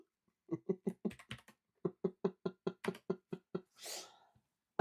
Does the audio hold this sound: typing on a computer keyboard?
yes